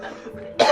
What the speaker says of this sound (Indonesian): Belum mulai juga udah batuk-batuk